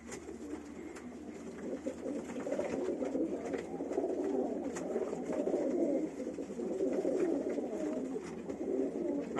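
Pigeons in a loft with their young coo continuously in soft, overlapping, throaty rolls, steady and close throughout.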